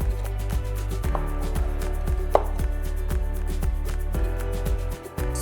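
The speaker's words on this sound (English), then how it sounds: "Just first cut them in big chunks" Knife chopping soft roasted eggplant into big chunks on a board, a steady run of close, muted thuds at an even rhythm with one sharper knock midway, no talking.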